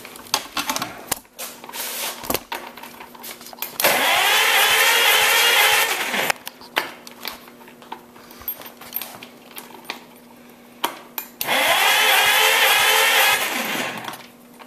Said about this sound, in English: Right now I just got it set up to the starter so we can see it crank over and see what we can get for compression.